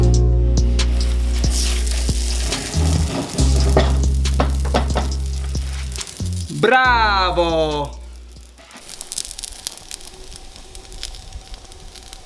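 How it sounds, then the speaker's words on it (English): Loud steady sizzling of focaccia bread dough frying in a hot pan, with a voice calling out briefly midway before the sizzle softens. "You can already start to see it sizzling."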